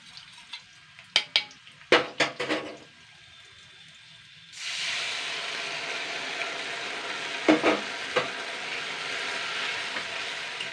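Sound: batter added to frying onion and capsicum

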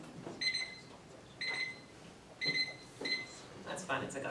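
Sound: timer buzzer

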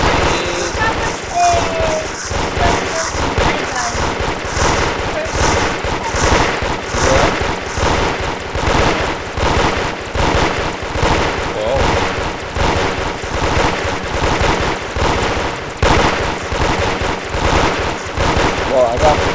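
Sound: towers shooting rapidly in Roblox Toilet Tower Defense video game

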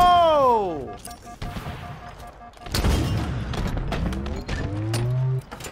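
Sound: grenade explosions in Halo Infinite video game

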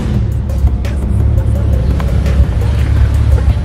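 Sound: car doing a donut spin

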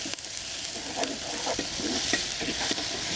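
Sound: onion sautéing in oil in a cast-iron pot

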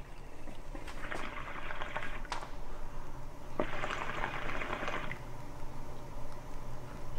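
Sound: stirring wasabi into water

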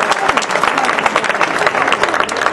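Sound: audience applause

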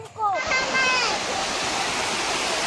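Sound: water flowing at Bhushi dam, Lonavala

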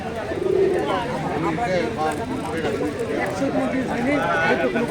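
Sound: Giribaz pigeons cooing at a pigeon market

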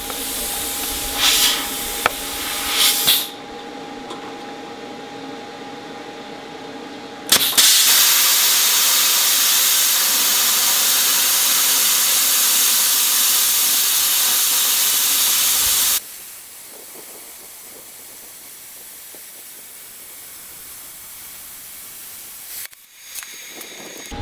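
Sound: YesWelder CT2050 plasma cutter cutting 1/2 inch plate on shop air

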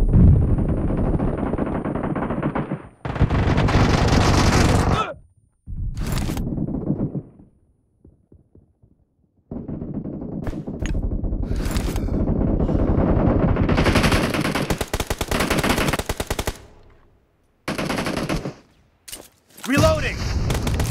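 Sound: gunfire in video game PUBG on Realme C31

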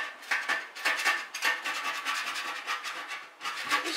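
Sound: scraper scraping dried masking tape off metal

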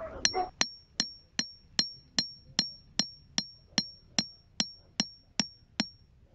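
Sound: hammering a stake into ground

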